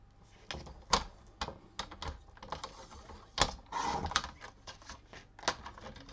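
Paper being cut to size for a pocket letter craft project, a series of sharp crisp snips and clicks at irregular intervals, close and fairly quiet, with no talking.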